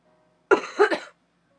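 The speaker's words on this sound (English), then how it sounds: "I tried not to cough into the mic." A single short cough burst from a person getting over a cough, close to the microphone, in two quick pulses with silence before and after.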